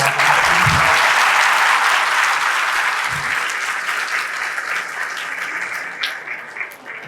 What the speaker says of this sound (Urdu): آپ سب بھرپور تالیوں میں دونوں مہمانوں کو